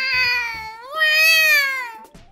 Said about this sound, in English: What was that sound? It sounded like a cat.